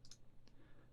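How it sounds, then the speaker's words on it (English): Calculator buttons are pressed while typing a fraction, giving a few quick, faint, close clicks against near silence. "let's pop this in the calculator"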